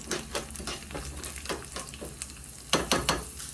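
Half a teaspoon of cumin seeds fry in a hot pan for broccoli dal while being stirred, a steady close sizzle broken by several sharp scraping strokes, the loudest near the end.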